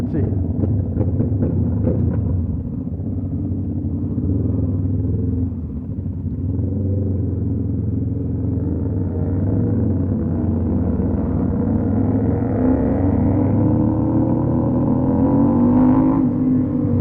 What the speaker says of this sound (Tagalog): Ingay ng mga exhaust nila.